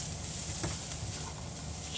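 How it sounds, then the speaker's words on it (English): Onions and sausages stir-frying in a pan, a soft steady sizzle with faint scrapes of the spatula now and then, quiet and continuous. "you want to add some onions to your sausages, and you want to stir fry these for about 2-3 minutes"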